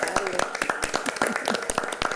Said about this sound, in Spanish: Vamos a dar un aplauso, por favor.